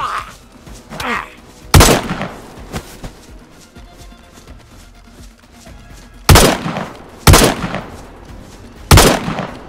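Sniper rifle shots from a VS-89 in DayZ crack out as four loud, sharp reports spaced several seconds apart, with quieter game ambience and faint movement sounds filling the gaps.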